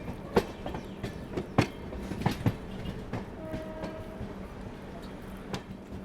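A passenger train in first AC class travels from Bangalore to Kolkata, its steady low rumble broken by sharp rhythmic clacks of wheels over rail joints and a brief tonal horn-like note midway.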